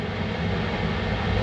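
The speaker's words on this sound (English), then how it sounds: "Lift off of Antares" Antares rocket lifting off on the Cygnus NG-12 resupply mission, a steady, loud broadband engine roar that holds constant throughout without letting up.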